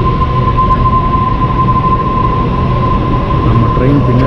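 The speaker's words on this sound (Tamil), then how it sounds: "நம்ம ட்ரெயின் பின்னாடி வந்துருச்சு." A train rumbles past at close range near Manly in Sydney, a loud, steady roar of rolling wheels with a faint high whine running through it for the whole stretch.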